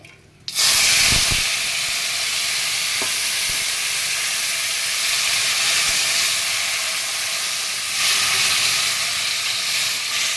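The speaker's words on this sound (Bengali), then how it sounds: "ফোড়নে একটু হিং দিলাম" Asafoetida dropped into hot oil for a urad dal tempering sets off a loud sudden sizzle that settles into a steady frying hiss, swelling again near the end.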